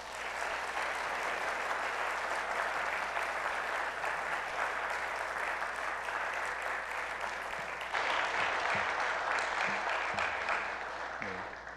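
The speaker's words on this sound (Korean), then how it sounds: "성도 여러분께서는 감사한 마음으로 축복하며 박수로 환영해 주시길 바랍니다" A church congregation at a Sunday service claps to welcome newly baptized members and children, a steady, even wash of applause from a large room that runs unbroken for over ten seconds.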